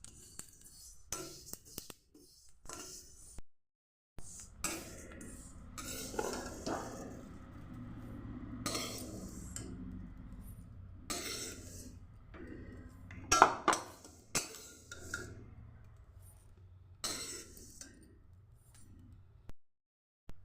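Roasted fennel seeds are scraped out of a pan, with scattered clinks and scrapes of a utensil on metal, quiet and intermittent, with pauses of near silence.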